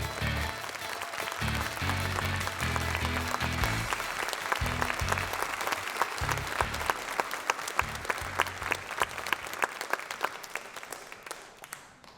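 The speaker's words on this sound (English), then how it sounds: "A round of applause for all our inductees." Applause from a seated audience for new inductees at a high school National Honor Society induction ceremony, a steady wash of many hands clapping throughout, with a low voice or music briefly underneath at the start.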